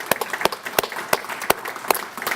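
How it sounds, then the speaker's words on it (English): Clapping from the audience at a gun-violence coalition fundraiser, a thin round with individual claps standing out irregularly, close and fairly loud. "so you guys deserve an extra round of applause for that"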